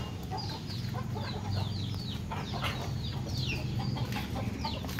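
Small chickens, including Cornish bantam stock, cluck and chirp repeatedly nearby, a busy overlapping chatter of short calls over a low background hum.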